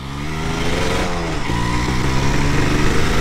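A Yamaha DT 200 two-stroke motorcycle engine winds up through the gears while riding, loud and close, with rising and falling harmonic whine and steady raspy buzz, no voices.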